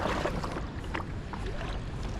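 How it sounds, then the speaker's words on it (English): Small river rapids rush past a kayak in a close, steady broadband wash of churning water, with a little wind buffeting the microphone. "There's some little rapids."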